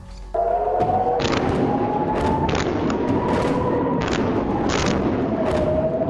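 Heavy booms of large-calibre artillery shells roll out over a constant low rumble in northern Israel, several muffled blasts spaced a second or so apart, with a faint siren-like tone running through.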